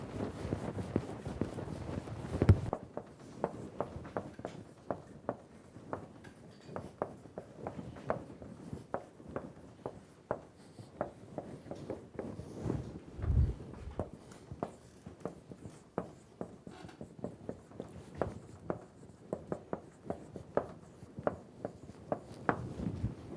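A lecturer writing a proposition on a classroom board with chalk or a marker, producing a steady run of scratchy taps and strokes that continues for about twenty seconds after a louder opening knock.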